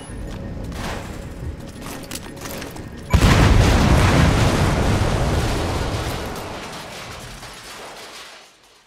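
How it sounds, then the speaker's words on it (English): A separator tank blows up in Metal Gear Solid V, a sudden loud boom that then rolls on as a long, slowly fading rumble, with quiet ambience before the blast. "Though security will be tighter after that explosion."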